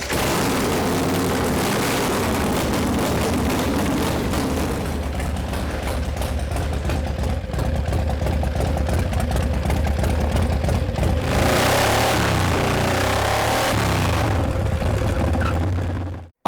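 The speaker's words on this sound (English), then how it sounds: "Larry takes Daddy O out for its first test run." Indian Larry's custom motorcycle Daddy O on its first test run: a loud, deep engine rumble that holds steady, then swells into a stronger rev near the end before cutting off.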